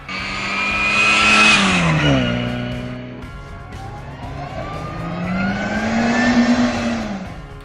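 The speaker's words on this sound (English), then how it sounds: "a supercharger under the bonnet, which actually gives the car a signature whine" A MINI Cooper S R53 engine with its supercharger revs up to a loud peak, drops back, then climbs again, the rising and falling engine note carrying a high whine over it.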